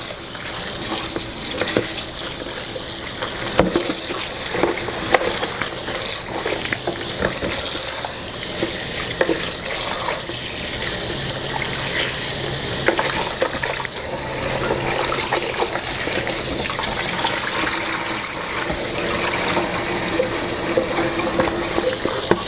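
Water poured off and splashing into a sink while steamed catfish is prepared, a continuous loud rushing spatter with scattered clinks and knocks, no talk.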